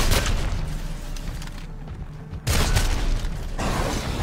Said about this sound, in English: That is like the worst orbital bombardment you could get.